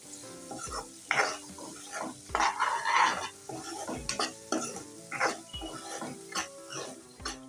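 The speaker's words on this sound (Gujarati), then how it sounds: "આ ડુંગળીને પણ આપણે સરસ રીતના હલાવી અને શેકી લેશું" Chopped onions being stirred and fried in a pan for a Kathiyawadi dahi bhindi dish: a steady soft sizzle under repeated scraping and clinking strokes of a spoon against the pan, close and moderately loud.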